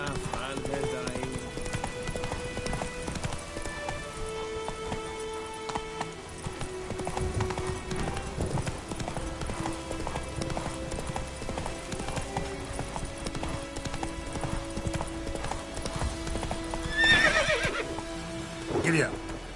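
A horse in The Witcher 3 clops along at a trot with a neigh rising near the end, while rain patters and someone talks over the hoofbeats.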